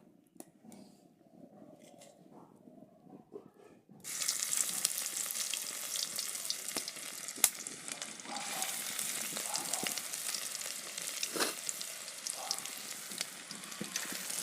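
Fritters drop one by one into hot fish oil in a wok and a loud, crackling sizzle erupts and holds steady, with occasional sharper pops and spatters; quieter kitchen noise precedes it.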